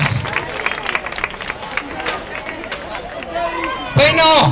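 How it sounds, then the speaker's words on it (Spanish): Audience applause and cheering at a Terrassa festa major show, a steady crowd clap with chatter and babble throughout, swelling louder near the end. "un fuerte aplauso para todos ellos, que veo que serán futuros artistas"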